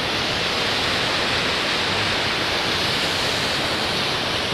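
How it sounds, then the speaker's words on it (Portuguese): Waterfall in Brotas, Brazil, roaring as a steady, loud broadband rush of falling water that continues without a break, heard close up with no voices. "cachoeira aqui, ó."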